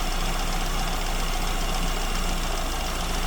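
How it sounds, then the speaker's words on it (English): Engine idling as its idle mixture screw is turned to richen a too-lean mixture, a continuous loud mechanical rumble with a steady low throb and no clear pauses. "I can hear the idle speed going up and down."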